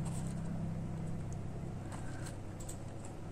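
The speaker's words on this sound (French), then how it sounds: "Désolé si vous entendez, je sais pas si c'est un avion ou un hélicoptère, bien sûr, qui passe là." An aircraft passing overhead produces a steady, low droning rumble that fills the background throughout, with no speech over it.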